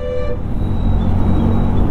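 A car horn blares steadily in dense highway traffic of container trucks near Kasara Ghat and Igatpuri, heard from a moving scooter over a loud, continuous rumble of engines and wind.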